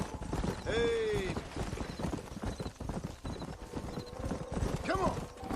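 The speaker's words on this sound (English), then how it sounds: "There's the horses!" Horses in the Red Dead Redemption video game, with steady clip-clop hoofbeats running throughout and a whinny near the start, under mixed game sound and some voices.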